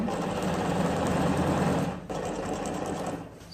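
A sewing machine back stitching a shirt placket runs in a fast, steady mechanical whir, pausing briefly midway before resuming at a similar close, loud pace.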